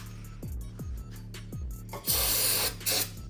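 Hissing bursts of a spray bottle, a short one then two louder sprays, over a low humming background with soft thuds.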